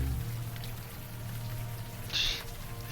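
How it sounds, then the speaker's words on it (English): Warm rain falls steadily in the video game Unavowed, a soft, continuous patter over a low background hum, with a brief bright chime partway through. "the warm rain is coming down"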